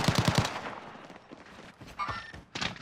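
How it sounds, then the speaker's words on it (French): Rapid burst of video-game gunfire from Call of Duty Warzone at a military base, four or five close, sharp shots in quick succession, then scattered thuds and a brief electronic tone, with another loud shot near the end. "Je me fais tirer dessus."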